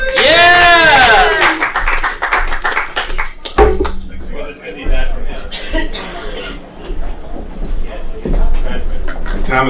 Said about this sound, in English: Give a round of applause for Steven Springer